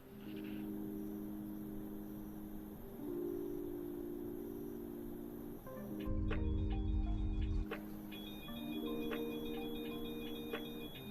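Cockpit warning tones from the battery alert in a PMDG 737 in Microsoft Flight Simulator, with steady layered electronic beeps and chimes repeating over a hum, the pattern changing partway through, with no voices.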